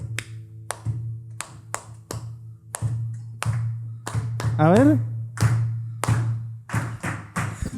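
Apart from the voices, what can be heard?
audience clapping along in rhythm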